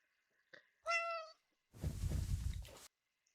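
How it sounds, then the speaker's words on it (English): A cat meows twice in a video game, a short chirp, then a clear tonal meow followed by a longer, rougher, noisier one, close and alone against silence. "Pet the cat. Meow meow."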